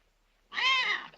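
A kitten in the 1942 film Cat People gives a single clear, high meow lasting about half a second, loud and close after a moment of near silence.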